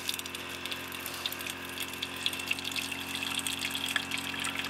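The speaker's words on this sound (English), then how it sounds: "Boiling water and then filtering the water." Boiled water trickles and splashes steadily as it drains through coffee filters outdoors in the Canadian wilderness, a faint continuous wet flow with small irregular drips throughout.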